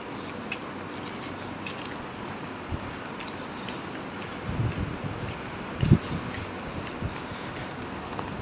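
A strong, warm night breeze blows through the city streets of Abu Dhabi, a constant rushing buffet against the microphone with a couple of louder gusts and faint rustles.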